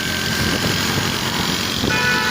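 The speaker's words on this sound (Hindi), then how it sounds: "शोर बहुत ज़्यादा ट्रैफिक का आपको आवाज़ आ रही है, क्योंकि मैंने शीशे ओपन किए हैं" Heavy road traffic in Lahore rumbles through the open windows of a moving car, a loud, continuous wash of engine and road noise with a faint horn-like tone near the end and no speech.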